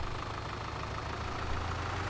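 A tractor engine idles in Farming Simulator, a steady, even low rumble that holds alone without any change in pace.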